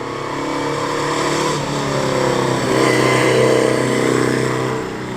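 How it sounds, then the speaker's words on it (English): An MGB sports car at a vintage hillclimb pulls past nearby, its engine droning steadily with a rising and falling note and no voices over it. "we are certainly in for a treat as an MGB rolls in"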